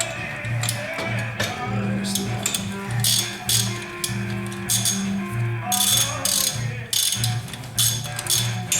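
A hand ratchet with a 12mm socket loosens bolts on a 2004 Nissan Xterra engine during water pump and timing belt work, clicking in quick repeated bursts close by, with a voice talking at a low level underneath.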